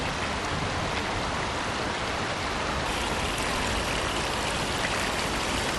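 A small stream trickles steadily, the water's soft rushing wash filling the scene evenly and close by with no break, in a very quiet natural setting.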